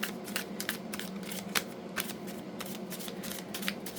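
A deck of tarot cards is shuffled by hand in repeated riffling bursts of crisp, papery flicks, close up and fairly loud, with short pauses between the passes. No voices are heard.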